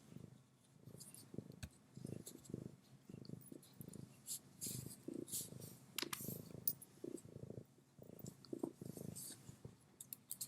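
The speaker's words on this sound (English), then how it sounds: "You're purring." A cat purrs close to the microphone in a quiet room, a soft rhythmic rumble pulsing in repeated breaths, with faint clicks and rustles above it.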